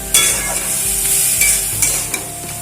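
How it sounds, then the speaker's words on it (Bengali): Bathua greens sizzle and fry in a pan with sugar while a spoon stirs them, giving a steady hiss broken by several scraping strokes close at hand. "এবারে আরো 5 মিনিট আমি শাকটাকে রান্না হতে দেবো।"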